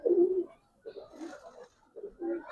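A Giribaz pigeon at a pigeon sale gives three short bursts of low cooing, close and distinct, with pauses between them.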